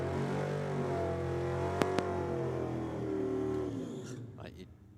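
A big Chevy drag racing car's engine drones loudly at close range with a sustained, shifting roar at a drag strip, fading toward the end as it moves off.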